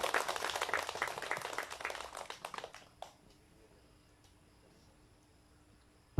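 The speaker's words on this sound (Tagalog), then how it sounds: "Pumalakpak sa tuwa at galak ang mga anak ng Diyos." A church congregation bursts into joyful clapping at a Wednesday morning service, dense applause for about two seconds, then thinning to scattered claps and stopping near three seconds, followed by near silence.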